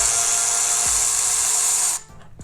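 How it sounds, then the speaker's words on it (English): A power driver whines steadily for about two seconds, loosening a screw on the brake caliper of a 2023 BMW S1000RR, then cuts off abruptly, leaving a few faint clicks. "So we're gonna be loosening up this screw here"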